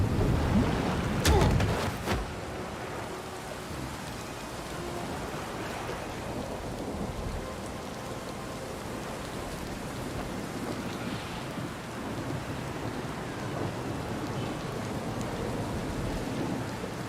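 Storm on a ship deck in Pillars of Eternity II: Deadfire: a sharp crack of thunder near the start, then steady heavy rain hissing continuously at moderate level with a low rumbling undertone.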